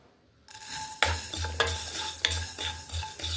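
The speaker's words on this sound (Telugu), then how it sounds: "మెంతులు కొంచెం దోరగా వేయించుకోవాలి బాగా నల్లగా అలా మాడకుండా వేయించుకోవాలి" Fenugreek seeds roasting in a pan for amla pickle, stirred with a metal spoon in repeated scraping and clinking strokes, quiet and close with a soft sizzle beneath.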